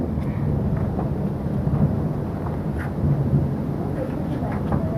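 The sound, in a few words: wind, rain and thunderstorm in Cherrapunji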